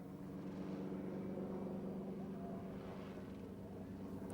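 A Hughes 300 helicopter flies at an air pageant, its engine and rotor making a steady droning hum that holds evenly throughout, fairly distant and unbroken.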